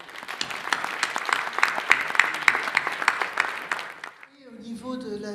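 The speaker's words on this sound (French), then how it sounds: "J'aimerais qu'on vous applaudisse." A festival audience gives a sustained burst of dense clapping on opening night at the Festival international Vues d'Afrique. The applause is loud and even, then fades out as a musical tone rises at the end.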